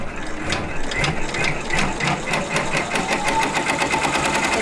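Brother PR1055 multi-needle embroidery machine stitching steadily on its third needle, a fast, even mechanical clatter of rapid needle strokes, close and continuous with no talk.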